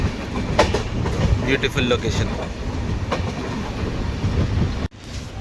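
Sabari Express, train 20630 from Thiruvananthapuram to Secunderabad, rumbles steadily on its rails with a clickety-clack rhythm while slowing on a wide curve, heard from inside the carriage as a person speaks briefly over the noise.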